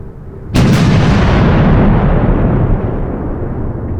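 Single heavy artillery blast, loud and close, with a sharp onset followed by a long rumbling decay that stays loud for several seconds, no voices.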